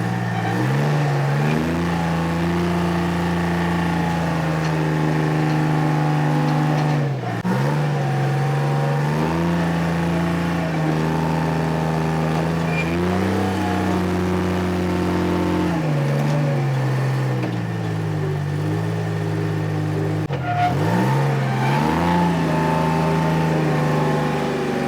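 An old, abandoned Michigan loader with a broken torque converter runs its engine alone, holding a steady low drone that rises and falls through several revs over the stretch.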